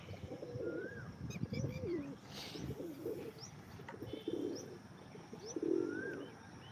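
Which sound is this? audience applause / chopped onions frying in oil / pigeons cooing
pigeons cooing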